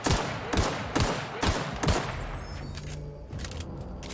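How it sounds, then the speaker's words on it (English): Pistol fire in the video game The Outer Worlds: a steady run of five loud, evenly spaced shots about half a second apart, followed by quieter game ambience with no talk. "let's just finish him off with the pistol"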